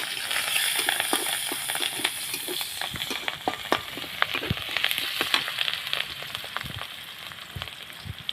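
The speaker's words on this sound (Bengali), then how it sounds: "এক তেলে আমি কেটে রাখা মরিচ আর পেঁয়াজ দিয়ে দেবো।" Chopped chilies and onion frying in oil for a village-style Surma fish curry with eggplant and beans, a steady close crackling sizzle with scattered sharper pops and stirring clicks throughout.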